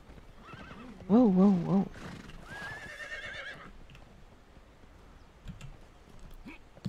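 Horse neighing loudly in the video game Conan Exiles, a whinnying call followed by a higher second whinny, with someone speaking briefly over it and faint clicking afterward.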